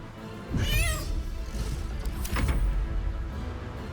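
Cats in the video game Baldur's Gate 3 meow loudly and close, two drawn-out calls rising over a steady game background, with no talking.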